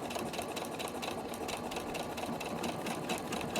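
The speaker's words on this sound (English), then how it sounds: "And now it goes up and back to stitch the first side of the buttonhole." A home sewing machine stitches a buttonhole on a casual shirt, a steady rapid mechanical whirr with rhythmic needle pulses running continuously and close up throughout, with no talking.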